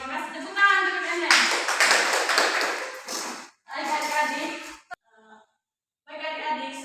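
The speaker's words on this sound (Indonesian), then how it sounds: "Tepuk tangan untuk Anda." Group of children clapping together in a classroom during a maths lesson, a loud burst of applause after rhythmic chanting, with voices talking before and after.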